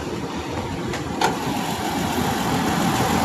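A Toyota Land Cruiser with a 4.0 V6 engine idles smoothly and quietly, a steady low hum with a couple of faint clicks early on and no talk.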